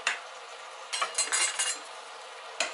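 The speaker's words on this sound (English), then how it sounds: "stir it all in" A utensil scrapes and clinks against a metal pot as pre-sautéed chicken and gravy are stirred inside a Power Pressure Cooker XL, giving a few close, sharp clattering strokes in bursts with quiet pauses between them.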